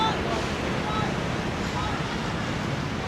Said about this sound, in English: the ocean is very calm also.